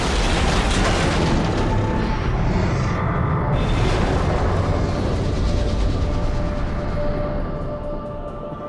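A Steam Lord enemy blown apart in Metroid Prime 3: Corruption, a long, loud roaring explosion with a sustained rumbling blast that slowly tails off over several seconds, no talk over it.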